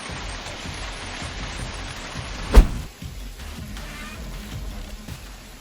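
Heavy hailstorm pounding a city street, a dense, steady pattering roar throughout with one loud impact partway through.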